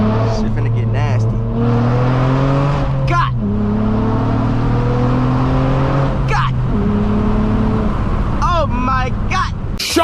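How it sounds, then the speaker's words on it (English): Tuned 8th-generation Honda Accord with a 3.5L V6 on a backroad, heard from inside the cabin as the engine climbs loudly through the gears, pitch rising then dropping at each of several upshifts, with voices and shouting over the roar. "I don't think y'all really hearing this car for real."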